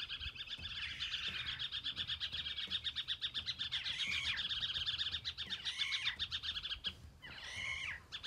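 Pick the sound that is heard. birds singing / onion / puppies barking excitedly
birds singing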